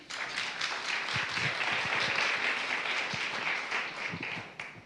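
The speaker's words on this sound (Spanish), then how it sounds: "Un aplauso para David." A church audience applauds as a participant is welcomed on stage: moderate, fairly distant clapping from many people that swells briefly, with a few sharper individual claps standing out, then tapers off near the end.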